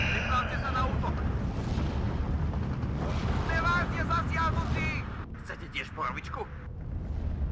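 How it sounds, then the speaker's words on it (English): Heavy 155mm artillery shells slam down in the Steel Division 2 battle at Dukla Pass, a dense, continuous rumble of overlapping loud blasts and booms, with voices talking over the barrage. "Now we're getting hit by 155mm artillery though."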